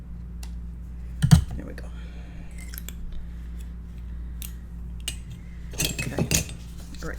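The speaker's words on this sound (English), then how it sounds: "this one has a little loose string that I want to trim" Scissors trim a loose string on a Stamperia Winter Tales paper mini album, with a couple of sharp close snips around one second and again near the end, and a brief spoken remark.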